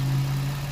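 A warmed-up 2006 Lexus IS350 engine idles steadily up close, a low, even hum with no revving, heard alone.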